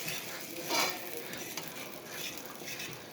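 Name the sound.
stirring eggs cooking in butter in a pan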